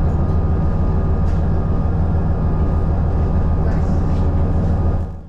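Train running through the outskirts of Surakarta beside houses and streets, a steady loud rumble of wheels and engine with rattling carriage noise, continuous close up, then dropping off at the end.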